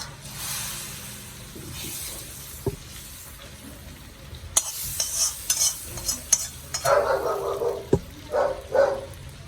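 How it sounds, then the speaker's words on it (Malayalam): A hot garam masala tempering is poured into garlic dal curry, setting off a sudden loud sizzle midway that crackles and hisses in bursts, along with clinks of a spoon against the pan, close up and without speech. "ഗരം മസാല ഇട്ടു താളിപ്പ് ഇതിൽ ഒഴിച്ചു കൊടുക്കാം"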